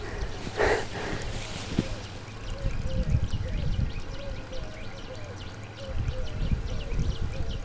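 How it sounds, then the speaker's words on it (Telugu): Water gushes up and pours out of a farm borewell, a steady, fairly faint splashing and trickling, with a voice briefly heard near the start. "బోర్లోంచి వాటర్ వస్తాయి ఫ్రెండ్స్"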